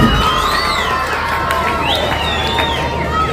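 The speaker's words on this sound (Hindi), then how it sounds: "जोरदार ताली स्वागत कीजिएगा जनाब कदीर मौलाना साहब" A crowd at a school building and turf ground inauguration claps and cheers in welcome, loud and dense, with children's shouts and whistles rising above it.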